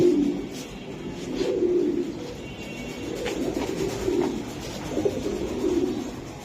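Palla-line high-flying Giribaz racing pigeons coo nearby in deep, throaty rolling phrases, several calls rising and falling one after another over quiet surroundings.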